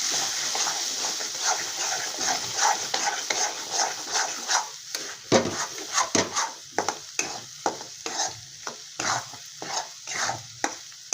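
Egg bhurji being stirred in a pan, with a faint sizzle under repeated rhythmic scrapes and knocks of a spoon against the pan that grow louder and more regular toward the end.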